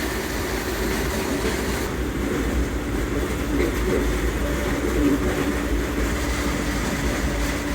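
A freight train rolls across the Arizona desert with train hoppers riding aboard, a loud, steady rumble and rattle of wagons on the tracks that carries on without a break.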